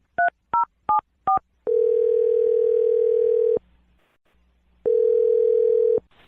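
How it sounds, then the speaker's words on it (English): Telephone keypad tones beep four times in quick succession, followed by a long steady ringback tone, a short silence, and a second identical tone, loud and clean with nothing else behind it. "We're going to dial the phone number right now"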